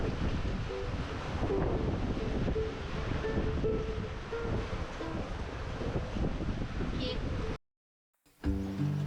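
Wind and waves roar steadily at sea while a sailboat runs with the wind astern, with constant gusting and wash through most of the stretch, then a sudden cut to silence and a brief return.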